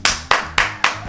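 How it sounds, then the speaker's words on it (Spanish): Hands clapping, five sharp, evenly spaced claps in about a second, close and loud with no other sound. "un aplauso para ti"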